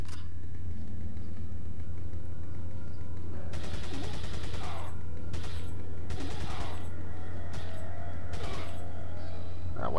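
Gunfire in the Resident Evil 4 video game on the Wii comes as bursts of rapid shots over steady game background noise, each volley loud and close with short gaps between.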